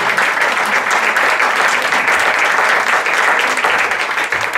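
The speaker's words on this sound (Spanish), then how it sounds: "Un fuerte aplauso para Fer." Steady, dense applause fills the hall as an audience claps for a guest named Fer at a centenary event for Miguel Gila, loud and continuous with no voices rising above it.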